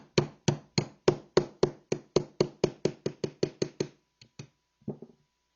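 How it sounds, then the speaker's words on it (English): Punch hammered to drift the front pin out of a rifle receiver: about fifteen sharp, evenly spaced metallic taps, loud and close, then two lighter taps and a final duller knock. "Take our punch, remove the bolt stop from the receiver, and now we're going to drift out the front pin."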